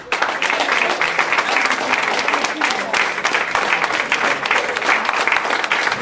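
An audience applauds a liscio dance-music performer at a 2007 Beltuna event: loud, dense clapping that runs steadily through the whole stretch, with crowd noise mixed in.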